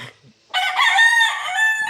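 A gamefowl rooster at a game farm lets out one loud, close crow lasting well over a second, following a brief near-silent pause.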